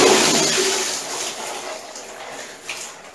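Dirty water gushes and splashes out of a radiator being flushed during a combi-boiler heating system cleaning, a loud steady rush that slowly eases off, with no talk over it.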